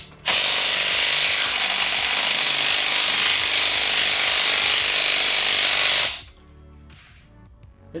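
A power ratchet or driver with a socket spins a corroded cylinder head bolt loose on a G48 engine, a loud continuous buzzing rattle for about six seconds before cutting off to quiet handling noises.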